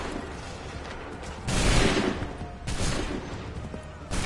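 Musket volley in Assassin's Creed III Remastered on PS5: a rolling crackle of many shots under constant battlefield noise, with two louder surges of massed fire a second or so apart.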